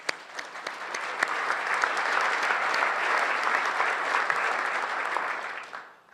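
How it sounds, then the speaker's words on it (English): A room full of audience members applaud the sponsors at a City Club forum on leadership in the electric power industry, with dense, sustained clapping that swells quickly and tapers off at the close. "Please join me in a warm round of applause for all of them."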